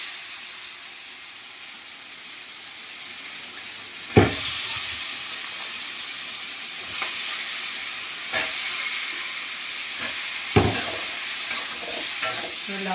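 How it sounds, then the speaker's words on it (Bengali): Bottle gourd pieces frying in a pan with green chillies and spices, a steady hissing sizzle broken by several loud scraping stirs of a spatula, close up with no talk. "লাউগুলো ভালো করে নেড়ে নিই"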